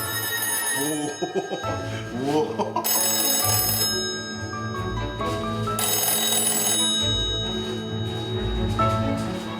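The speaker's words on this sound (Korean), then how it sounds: "전화가 울리네요" An old rotary dial telephone rings in a busy Korean noodle restaurant, its bright repeated bell bursts sounding up close and loud while a voice briefly exclaims in surprise.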